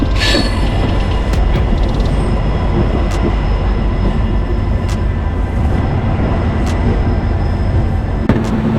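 A Puducherry–Villupuram MEMU train pulling into the large Villupuram railway station, with a loud, continuous rumble of rolling wheels and repeated sharp metallic clicks and squeals throughout.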